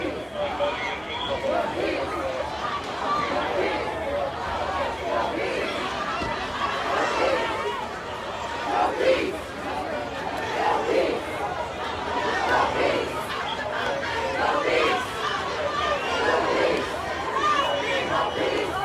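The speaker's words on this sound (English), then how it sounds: "And the crowd gathering outside." An outdoor crowd at a youth racial-justice rally marching to a police headquarters, with steady dense chatter and indistinct shouting of many voices at mid distance, swelling slightly at times.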